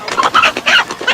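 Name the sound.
rooster crowing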